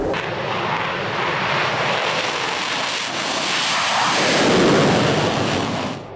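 Aircraft on a runway with a continuous broad jet-engine roar that swells slightly toward the end. The sound is loud and steady, and no voices can be heard.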